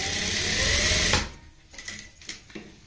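A sewing machine runs steadily, stitching a neckline onto buckram on printed fabric in a continuous whirring burst that stops abruptly after about a second, followed by quieter handling clicks.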